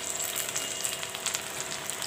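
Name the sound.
tomatoes frying in oil with golden-brown onions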